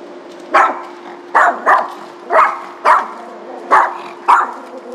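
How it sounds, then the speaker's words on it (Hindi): Dogs bark at a stranger inside a classic Soviet apartment building in Moscow, giving about seven sharp, spaced barks, fairly close and echoing over a low steady hum. "कुत्ते भी देख के पहचान जा रहे हैं भाई कोई बाहरी आया हुआ है।"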